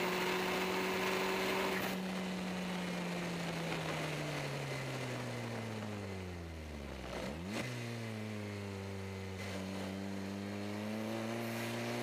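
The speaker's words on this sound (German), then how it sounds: "Jetzt kommt gerade die besagte schnelle Ibis von hinten an" A fast SEAT Ibiza comes up from behind a KTM X-Bow, its engine heard over the steady drone of the X-Bow's own engine, pitch sweeping down and back up as it closes and passes.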